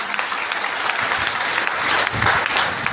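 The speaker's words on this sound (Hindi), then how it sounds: "शानदार तालियां होनी चाहिए" Audience applause at an awards talk for rank achievers, loud sustained clapping from a large crowd with steady intensity throughout, no speech over it.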